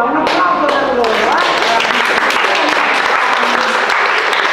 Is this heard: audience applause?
yes